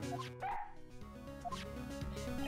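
A small dog in the Ace Attorney video game gives a quick series of high, yippy barks and yelps, electronic and clear against a continuous game music background, with no speech.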